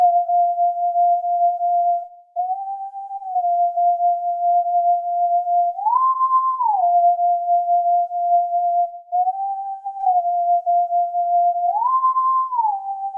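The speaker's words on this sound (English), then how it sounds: "it's just a single sine wave, so it's pretty thin" A thin single sine-wave synth melody holds a steady pure tone, stepping briefly up to a slightly higher note and then a higher one before settling back, in a repeating pattern. It is loud and alone.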